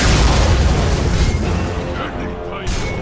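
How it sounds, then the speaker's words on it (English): A tower collapses in the video game Dota 2, a loud booming crash that decays into rumbling debris and fades over a few seconds. "Dire's bottom tower has fallen."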